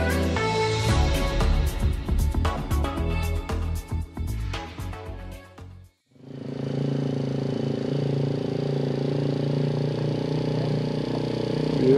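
A Polaris vehicle drives close by, its engine running loud and steady with a few revving surges, briefly cutting out and then resuming a continuous hum.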